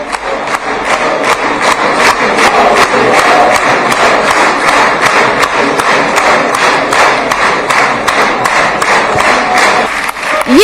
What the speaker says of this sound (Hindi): स्टैंडिंग ओवेशन दिया जा रहा है, मोदी मोदी मोदी, तालियों की गड़गड़ाहट।